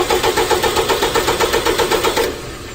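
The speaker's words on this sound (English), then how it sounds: "we'll go ahead and crank." A car engine cranks on its starter during a starter voltage drop test, a fast, even, rhythmic churning of about a dozen pulses that stops abruptly near the end.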